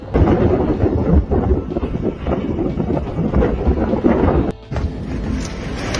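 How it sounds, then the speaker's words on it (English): A lightning strike hits a wind turbine, damaging a blade, and loud rumbling thunder follows with strong buffeting wind noise, booming steadily and briefly dipping before resuming. "A lightning strike damaged a wind turbine blade and caused it to explode moments later."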